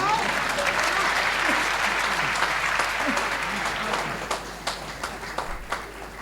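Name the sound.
audience applause at a comedy poetry show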